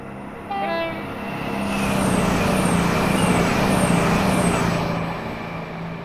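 A Class 222 Meridian diesel train in Train Simulator Classic, its engine throb rising to a loud, sustained roar, with a short tone at the start and a series of repeated high squeals, no talk.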